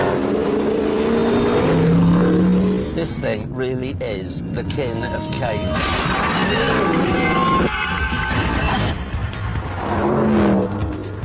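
Mercedes AMG car with a 6.2-litre engine accelerating hard, loud revving bursts with tyre squeal on a road in Wales, someone talking over it.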